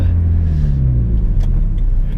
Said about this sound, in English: That exhaust sounds so good.